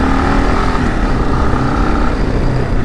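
Kawasaki KLR 650 motorcycle rides off road, its engine droning loud and close with a steady rumble and no pauses.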